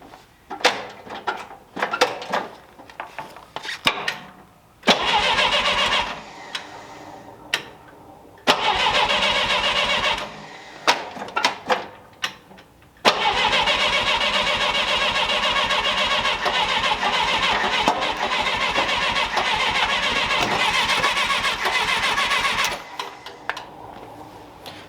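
An old truck engine is cranked with the starter again and again, with several short churning bursts and then longer sustained cranking that labors but does not catch, loud and close.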